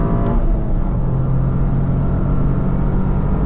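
A 2023 Toyota GR Corolla is driven on the road, its engine and tyre rumble filling the cabin as a loud, steady, low drone for a few seconds without speech.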